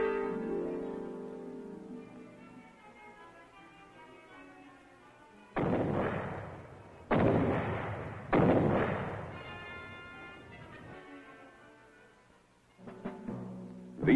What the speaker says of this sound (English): Care should be taken in detonating these grenades.